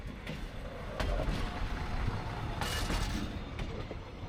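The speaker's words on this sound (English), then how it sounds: "I wanted to show you this legendary Hungarian train" An old Hungarian train, one of a legendary class once common across Czech, Slovak and Hungarian railways, rumbles steadily nearby with a dense, continuous rolling roar and a few faint clanks, with no voices.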